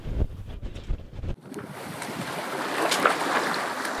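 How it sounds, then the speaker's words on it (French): Strong wind and choppy waves at sea off Calvi, Corsica, heard as gusty buffeting on the microphone giving way to a sustained loud rushing wash of water, with no talk. "le vent et les vagues sont toujours aussi présents"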